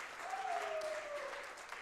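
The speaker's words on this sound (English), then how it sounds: "Please clap." A burst of clapping from an audience, steady and fairly faint, with a brief whistle-like tone drifting through it.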